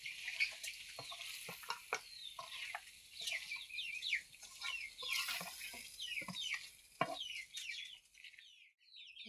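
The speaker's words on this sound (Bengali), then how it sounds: "মুরগিগুলো" Native village chickens cluck and chatter in quick, overlapping bursts with a few sharper squawks, close by but soft, with no talk.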